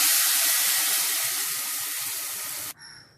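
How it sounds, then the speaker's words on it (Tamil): Tamarind water poured into a hot pan gives a loud burst of hissing steam and sizzle that slowly fades for a few seconds, then cuts off abruptly, leaving a quiet tail. "இப்போ வந்து நான் அந்த புளி தண்ணியை இதில் ஆட் பண்ணிக்கிறேன்"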